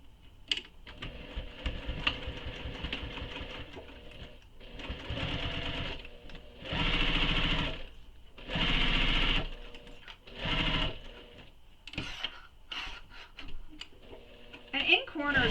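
A sewing machine stitching a seam on a Brewster belt bag runs in several sustained bursts of rapid, steady needle clatter, separated by short pauses and small handling noises, close and fairly loud.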